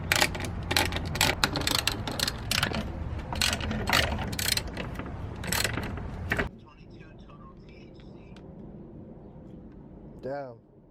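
A ratchet backs out 10mm bolts holding the AC fan on a Miata, with rapid, loud clicking bursts for several seconds before it stops, followed by quieter faint handling noises and a brief sweep near the end.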